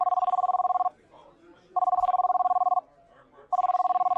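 A cell phone rings inside a restaurant in three loud, steady bursts of electronic trilling separated by pauses, with faint room chatter underneath.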